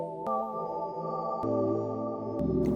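A CXM 1978 reverb unit, a Lexicon 224-style processor, set to its hall algorithm, rings with sustained tonal notes that carry a long, smooth tail beneath repeated sharp attacks, with no talking.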